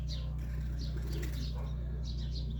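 Serbian Highflyer pigeons flap their wings in a few soft, brief flurries close by, over a steady low hum, as the birds wait to be shipped.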